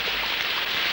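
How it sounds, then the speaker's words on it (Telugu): Steady rain pours down outdoors, a dense, even hiss of drops on surfaces that holds at a constant level throughout, with no voices over it. "వర్షం చూడు ఎంత అందంగా కురుస్తుందో"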